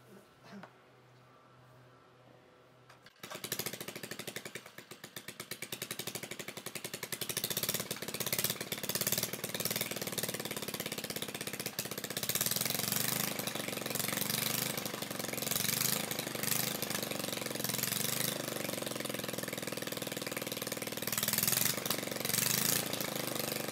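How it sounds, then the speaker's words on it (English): A Simplicity Model FB walk-behind tractor engine starts after a few quiet seconds and then runs outdoors, a loud, steady, rattling mechanical drone that holds its level to the end. "I'm going to start the engine once more just to check"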